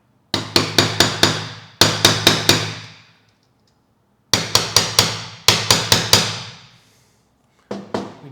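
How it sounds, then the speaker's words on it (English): Gentle hammer taps seating strong plastic parts while building a sled, crisp close strikes in quick groups of four or five, each group ringing briefly before pausing, then repeating. "gentle tap with a hammer."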